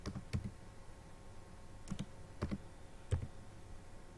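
A few sparse, quiet keystrokes on a computer keyboard, single clicks spaced irregularly against a soft background hum, with no voices.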